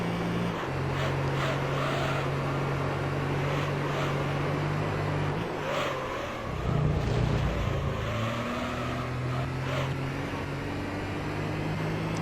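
A Toyota Supra racing on the Trial Mountain circuit in Gran Turismo 3: A-Spec, a sustained engine drone rising and falling in pitch through gear changes and corners, steady and loud with no talk.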